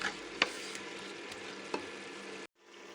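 Onion frying in a pan while chicken cooks: a steady, soft sizzle with a couple of faint ticks, quiet and alone, then cutting off abruptly near the end.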